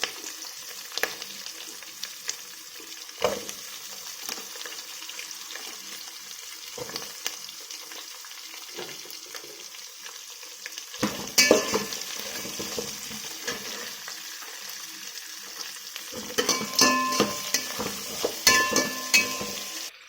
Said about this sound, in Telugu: ఫ్రై అయిన తర్వాత పచ్చిమిర్చి, ఆనియన్స్ వేసుకున్నాను.